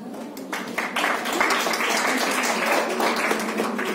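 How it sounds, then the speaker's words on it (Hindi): Audience at a breast cancer awareness camp in a school clapping for themselves, a brief burst of scattered applause from a small crowd that swells and holds for a few seconds. "खुद के लिए तालियां होनी चाहिए।"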